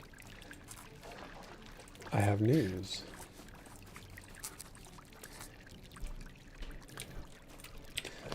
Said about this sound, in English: Yeah, I hear a babbling brook.